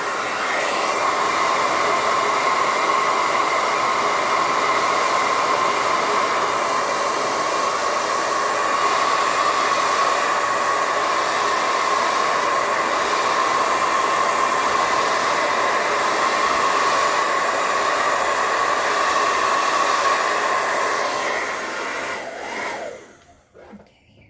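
A hair dryer blows at close range to dry paint, a loud, steady whooshing drone with a constant hum that runs unbroken for over twenty seconds before cutting off abruptly.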